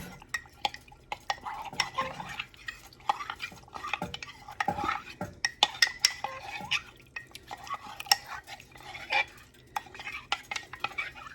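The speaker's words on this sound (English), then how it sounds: "We're going to stir it to dissolve." A spoon stirs a cornstarch and cold water slurry steadily in a bowl, with rhythmic scraping and light clinking against the sides, close up and continuous throughout.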